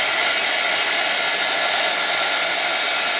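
A heat gun blows steadily while drying a coat of crackle paint, a continuous loud airy whoosh with no pauses and no talking.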